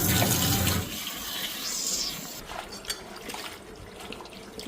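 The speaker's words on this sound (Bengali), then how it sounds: "এদিকে লাল শাকগুলি ভালো করে ধুয়ে নিই" Red leafy greens being rinsed under a running tap in a kitchen sink, a steady splashing water stream that is loud at first, then softer trickling and dripping as the leaves are handled.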